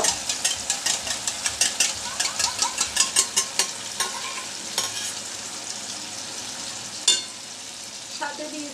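Beaten eggs poured over softened tomato frying in a pan, a loud close sizzle with a fast regular run of spatula strokes early on, then a quieter hiss with a couple of sharp knocks.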